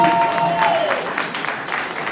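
A crowd at a Polsat Hit Festival press conference claps steadily and fairly loudly for a couple of seconds, with a brief high whistle-like tone near the start.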